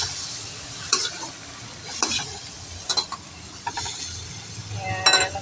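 Shrimp frying in a pan with onion for garlic shrimp: a soft sizzle runs throughout, broken by repeated clinks and scrapes of a utensil stirring against the pan at roughly one-second intervals.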